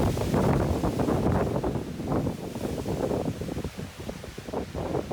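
Strong wind gusts hard across a mountain ridge on a winter hike in the Southern Kananaskis Rockies, a loud, steady roar buffeting the microphone throughout with no voices.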